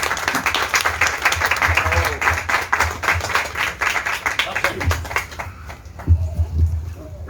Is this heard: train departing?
no